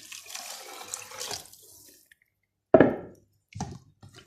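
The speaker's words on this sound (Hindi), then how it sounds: "ये देखिए, इसमें पानी डालेंगे" Water is poured into a pot of cleaned wheat and barley grains for beef haleem: a long splashing pour, then a pause and two short sloshing bursts, with no voices.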